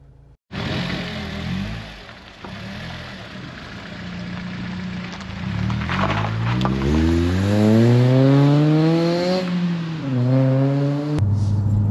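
A Honda Civic Type R FD2, a rare JDM import, pulls away from a lay-by: the engine starts abruptly, idles low, then revs rise in smooth climbing sweeps through short shifts, heard loud from inside the cabin.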